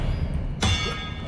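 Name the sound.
Expelliarmus disarming spell cast in video game Hogwarts Legacy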